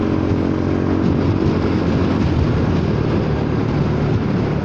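A Honda Forza 300 scooter on the move, a loud, steady low engine drone with wind rush, close and constant throughout.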